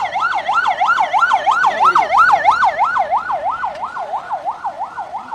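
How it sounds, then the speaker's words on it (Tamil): An ambulance siren wails loud and close as it pushes through a crowd at a political campaign stop in Keezh Pennathur, its rapid rising-and-falling tone repeating steadily with no speech over it. "அது ஆம்புலன்ஸ் வந்து வழிவிடுங்க"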